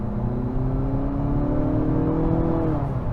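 A 2023 Nissan Altima's engine drones steadily under full-throttle acceleration, its rising tone climbing smoothly and continuously, loud and close from inside the cabin with no talking.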